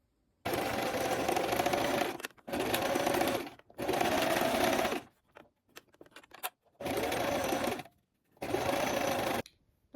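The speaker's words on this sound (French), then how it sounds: "vous allez coudre au point droit à 1 cm du bord" A sewing machine straight-stitches a trouser pocket one centimetre from the edge, running in five steady whirring bursts of about one to two seconds each, separated by short pauses with faint handling sounds.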